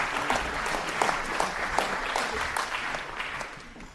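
An audience claps steadily through a stage show with scattered sharp hand claps, then the applause fades toward the end.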